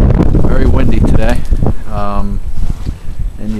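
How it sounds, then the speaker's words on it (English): Strong wind buffets the microphone outdoors near a pool area at an Outer Banks rental home, a loud continuous roar with gusts, while a person talks over it. "Very windy today."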